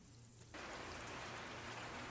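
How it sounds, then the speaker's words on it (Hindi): Steady rain falling, a dense continuous patter of drops that begins abruptly half a second in and holds at an even, moderate level to the end, with no voices. "बारिश की बरसती बूंदों ने"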